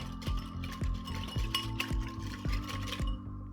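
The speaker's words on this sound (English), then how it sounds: "Just whisk it up until the sugar dissolves and set it aside." A soy sauce and sugar sauce is whisked in a bowl, giving a rapid, regular series of clinking taps against the bowl with a light swishing between them, close and clear.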